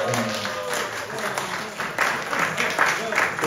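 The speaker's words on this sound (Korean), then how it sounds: "박수 한번 하십시다" A church congregation at an early-morning prayer service claps together for a coordinator, a continuous rolling applause that swells slightly near the end, with a voice faintly audible beneath.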